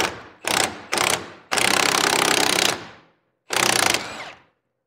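A power tool, likely an impact wrench, works the pinion nut on a Ford 8.8 rear axle, sounding loud and close in two short bursts, one long rattling run and a final burst.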